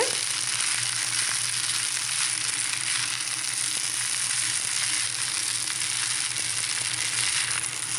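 Idli upma frying and being stirred in a pan over a low flame, a steady, even sizzle with a soft hiss that runs unbroken and fairly close, with no talking.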